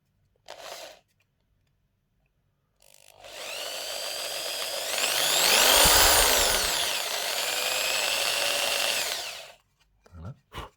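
A power drill with a 2.5 mm bit enlarging holes in a PS5 controller shell, a short whir, then a sustained close whine that rises and falls in pitch for several seconds before stopping.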